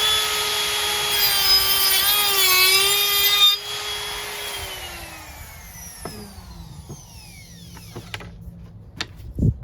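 A router cutting wood during a cocktail arcade table build, a loud high whine with a wavering pitch as it bites the workpiece, then winding down into quieter knocks and handling noises.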